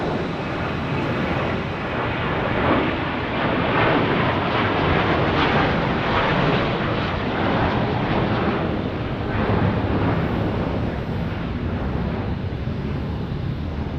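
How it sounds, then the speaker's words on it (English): An older American Airlines Airbus A321 departing Phoenix Sky Harbor, a steady broad jet roar with a windy, rushing texture that stays loud throughout, with no talking. "here's an old school A321 for American Airlines departing"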